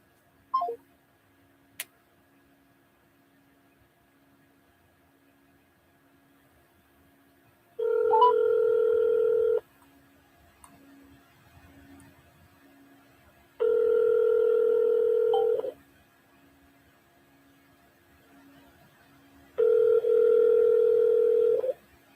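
Telephone ringback tones on a call to a voicemail number: three evenly spaced, loud steady ring bursts of about two seconds each, separated by long quiet gaps with faint clicks.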